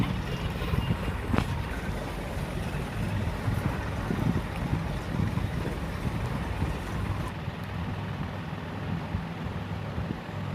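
A farm tractor engine runs steadily with a low, continuous rumble, sputtering along with wind noise over the microphone throughout.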